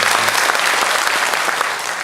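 A Korean church congregation breaks into warm applause during a Sunday morning service, a dense, steady clapping of many hands filling the sanctuary for a couple of seconds.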